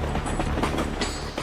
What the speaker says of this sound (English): Trains thunder across the countryside.